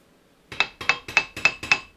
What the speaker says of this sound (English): That's that little Achaio anvil that I have,